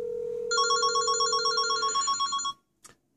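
A mobile phone left inside a microwave oven rings with a steady electronic ringtone, a clear repeating pattern for a few seconds, then it cuts off into near silence.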